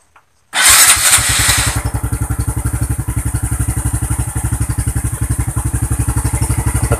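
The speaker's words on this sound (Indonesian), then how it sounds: "motornya sekarang sudah hidup" A Honda Blade Repsol 125 fuel-injected motorcycle starts with a brief loud crank, then settles into a steady, fast, rhythmic idle that runs close and alone to the end.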